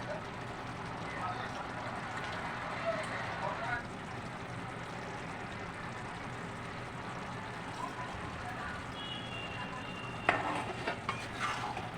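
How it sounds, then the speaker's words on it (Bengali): Fried fish heads are stirred into boiled rice and potatoes for muri ghonto made with Gobindobhog rice. A steady soft sizzle and scrape runs throughout, with a few louder clinks near the end. "আমি এই মাছের মাথাগুলি যে ভেজে রেখেছি এই ভাজা মাছগুলি দিয়ে দেবো"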